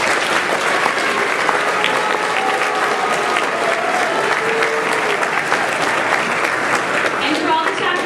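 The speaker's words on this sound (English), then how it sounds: "Let's give these people to my right and left a big round of applause." A big round of applause from the audience at a Southern California state day gathering, dense steady clapping filling the room without a break, with a faint murmur of crowd voices underneath.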